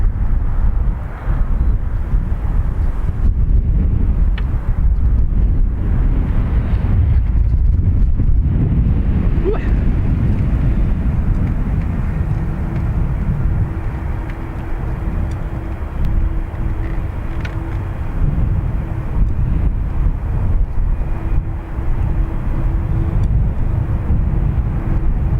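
A strong breeze buffets an outdoor microphone at an airport, a loud, continuous low rumble that gusts and eases, with faint aircraft or vehicle noise beneath and a thin steady tone emerging later.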